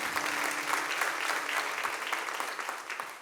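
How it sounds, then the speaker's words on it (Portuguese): A church congregation applauds, brisk, dense clapping from a sizable crowd that holds steady for a few seconds before easing slightly. "Vamos aplaudir Jesus de novo"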